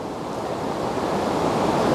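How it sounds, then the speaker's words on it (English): Waves surge and splash against the shore near the Hermitage, a loud, close, continuous roar of surf that builds slightly toward the end, with wind buffeting the microphone and no voices. "I just got a big splash in my face"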